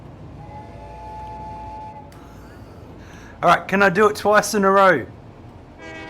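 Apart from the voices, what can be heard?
train horn, old-fashioned whistle Easter egg, Satisfactory video game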